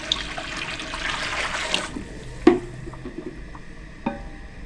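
About six litres of water pours and splashes into a pot for chicken Sindhi biryani for about two seconds, then quieter sloshing and a few clunks follow.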